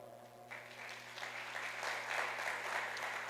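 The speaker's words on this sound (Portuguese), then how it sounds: "Aplauso pelo seu amigo que está aí do lado." Audience at a church conference breaks into applause, starting abruptly after a half second and building into a steady, loud clapping crowd that swells toward the end, with no speech over it.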